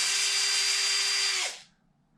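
A power drill runs steadily while backing out bolts from the upper shock tower of a Traxxas XRT RC truck, a single sustained whine that winds down and stops near the end.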